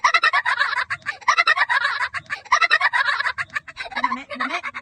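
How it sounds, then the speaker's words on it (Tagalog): A duck quacks in rapid bursts of harsh, raspy calls repeated several times in a loose rhythm, close and fairly loud, with a lower honking note near the end. "Uy, pato."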